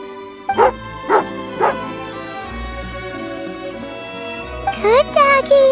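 A dog barks three times in an even rhythm in Genshin Impact, clear and close, followed by a brief higher yip or whine, over a soft game soundscape.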